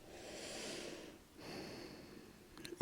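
Two slow, deep breaths during a yoga pose, each a soft, airy inhale or exhale rising and fading, close and quiet.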